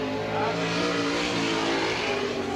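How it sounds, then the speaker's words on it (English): A 410 sprint car at a World of Outlaws dirt-track race at Bridgeport Speedway in 1994 roars steadily as its engine revs, a loud and continuous racing engine note heard from the track with no talk over it. "As the next car fires up and brings that at turn number 4"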